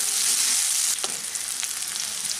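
Chopped onions sizzling in mustard oil in a pan, a bright continuous fry close to the mic, briefly disturbed by a stir or scrape midway before settling into a slightly softer sizzle.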